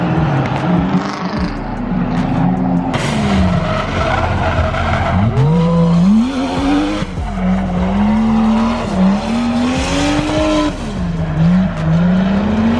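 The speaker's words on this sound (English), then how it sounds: "This Supra's loud" Toyota Supra drift car roaring loudly nearby, engine note rising and falling through wailing revs while tires squeal and skid continuously across the run, with crowd and track noise beneath.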